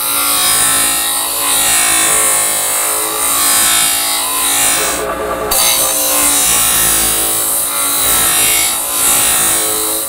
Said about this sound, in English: I'm gonna go ahead and grind these, chamfer these edges a little bit